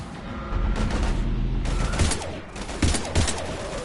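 Sustained automatic gunfire in the shooter Mass Effect 2, rapid close bursts with a few heavier thumps, loud and dense throughout.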